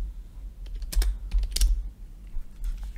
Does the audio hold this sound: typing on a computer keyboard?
yes